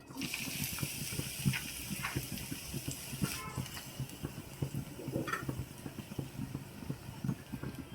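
Sliced onions dropped into hot oil in a pan while making chicken curry gravy, giving a sustained sizzle and crackle with occasional clinks and taps, fairly close, with a few faint background voices.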